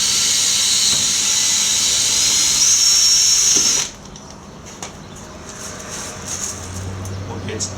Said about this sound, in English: First thing to do, drill the pilot hole.